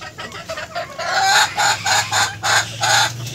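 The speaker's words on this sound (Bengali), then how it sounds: "আর এটা আমার বর্তমান সোনালী মুরগিগুলো দেখতে পাচ্ছেন কেমন" Sonali breed chickens on a farm cluck in a loud, close series of rhythmic bursts, with several birds calling over one another and a steady low hum underneath.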